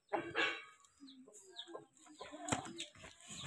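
Desi hens kept on a home rooftop cluck in short, uneven bursts, with a louder flurry at the start and another near the end, close by and fairly clear.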